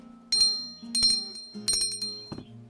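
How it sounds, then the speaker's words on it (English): Four bright, metallic bell rings in an irregular rhythm, each a short cluster of clear ringing tones that decays quickly, standing alone and fairly close against a quiet background. "make sure you ring the bell"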